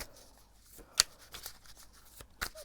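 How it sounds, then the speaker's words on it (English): Tarot cards are shuffled by hand in soft, quiet riffles and slides, with a few sharper snaps of cards scattered through the otherwise hushed clip. "I'm going to shuffle a little bit more"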